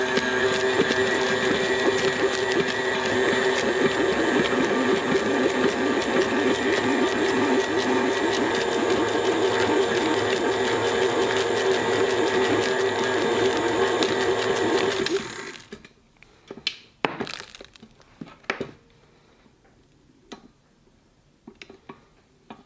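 A stand mixer churns gluten-free ciabatta dough with a loud, steady motor whir and rhythmic ticking for about fifteen seconds, then shuts off, leaving a few light knocks and clatters.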